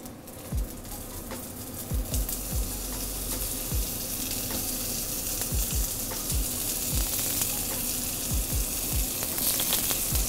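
Steady sizzling of onions frying cut side down in olive oil in a hot pan, with a continuous crackle and occasional small pops and clicks throughout.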